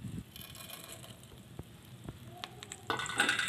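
Garlic and tempering spices sizzle in hot oil for a tomato chutney, a soft crackling fry with a few sharp pops and utensil clinks, growing louder near the end.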